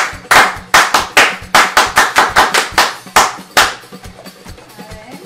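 A small group claps in a quick, uneven rhythm for several seconds, the claps sharp and close, then tapering off.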